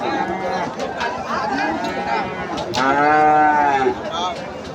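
Friesian cattle at a Bangladeshi livestock market let out a couple of deep, drawn-out moos, the second louder and longer, over a busy crowd chatting nearby.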